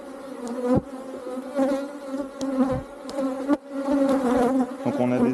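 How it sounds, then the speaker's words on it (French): Nervous honeybees buzz steadily at an open hive during a routine inspection, a dense close drone with a few sharp thumps and knocks of hive handling scattered through it. "Donc on a des abeilles assez nerveuses quand même hein,"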